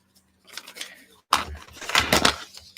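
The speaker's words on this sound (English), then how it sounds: "Scissors." Scissors snip through paper in a few quick crisp cuts, close by, with a short pause partway and a brief soft voice near the start.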